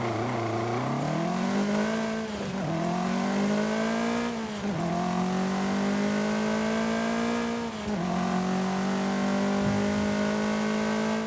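A Lancia Fulvia HF with its 1.6 litre engine revs in Forza Horizon 5, a steady, loud mid-pitched drone that climbs through the gears with brief dips at each shift, alone with no talk.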